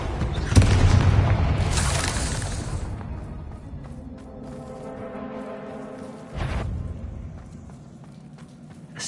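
A Confringo blast spell exploding in the Hogwarts Legacy video game: a loud close boom with crackling burst, a rumbling fade, then a second thud later amid low game ambience.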